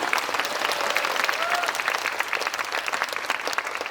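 Cinema audience at a CGV Yeongdeungpo star live talk for the film Tune in for Love applauds, a sustained, even wash of clapping from a full theatre with a faint voice underneath.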